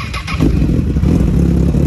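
A customised motorcycle with a loud, LED-lit setup fires up close by, catching with a brief burst and then settling into a steady, throaty idle rumble that carries on without pause.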